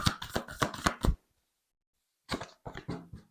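Oracle cards from a Sacred Traveler deck being shuffled and drawn, a burst of quick papery riffling, then a pause of near silence before more soft card flicks and slaps, close and quiet.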